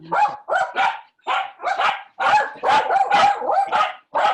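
Several dogs bark loudly and repeatedly at close range in a quick, uneven series of sharp yaps and barks, with no talking over them.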